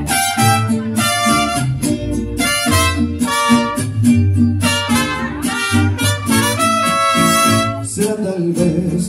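A mariachi band plays a quinceañera song at a fifteenth-birthday celebration, with bright trumpets, violins and strummed guitars over a steady bass rhythm. The music is loud, close and continuous throughout.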